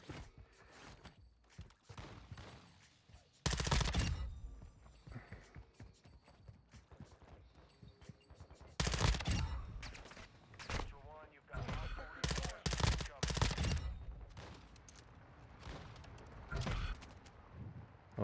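Bursts of rapid gunfire erupt repeatedly amid clattering and mechanical noise, loud and close, with quieter stretches between.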